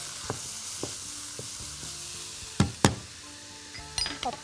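Vegetables and peas frying in a pan for rice with vegetables and béchamel, a steady sizzle broken by repeated spoon knocks and clinks against the pan, with a cluster of sharper taps near the end.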